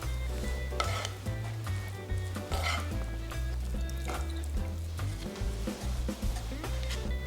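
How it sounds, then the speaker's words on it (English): Dried squid strips being tossed and mixed with spicy sauce in a pan for Korean jinmichae bokkeum, giving a steady sizzle with repeated scraping and stirring knocks all the way through. "Throw the squid into the pan and thoroughly mix with the sauce."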